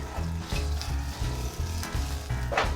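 Garlic fries in a pan with a moderate, continuous sizzle, with stirring and a few clattering bursts, and no speech.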